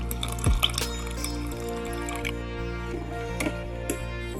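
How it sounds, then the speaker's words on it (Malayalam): Milk is poured into rava and vermicelli cooking over a low flame for thari kanji, a brief liquid splash and filling sound followed by soft wet squishing as it mixes, under a steady background hum. "പാല് ആഡ് ചെയ്ത് കൊടുക്കുകയാണ്."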